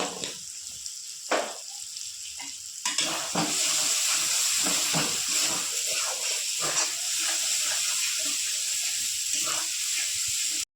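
Chicken kosha masala frying in a pan, with a few sharp sizzling bursts early on, then a continuous loud hiss and crackle of frying with scattered stirring scrapes.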